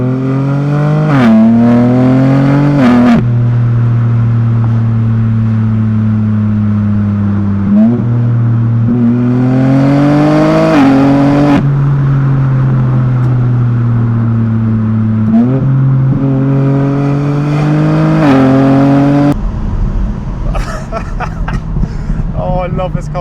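A tuned BMW M3 making 880 Nm of torque revs and accelerates through several gears, a loud steady engine drone rising in pitch with each pull and dropping at every shift, close and continuous.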